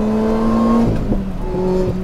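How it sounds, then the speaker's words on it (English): A Lotus Exige S four-cylinder engine revs on a race track, a steady, loud, close tone that shifts pitch partway through as the driver changes throttle, with no talking. "For a 4-cylinder engine, it makes a lovely noise."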